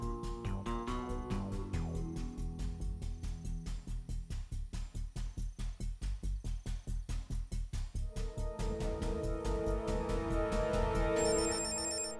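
A telephone rings again and again, loud and close, as a rapid pulsing electronic tone with a busy melodic pattern that runs unbroken without any voices.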